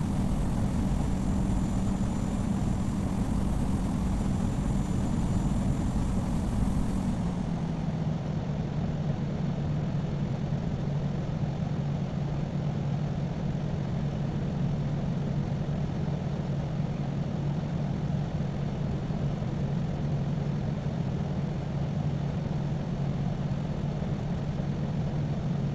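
Simulated Air Canada A220 jet engines taxiing in Infinite Flight, a steady broadband whine and low rumble that holds evenly throughout, with a slight drop in pitch and tone after the opening seconds.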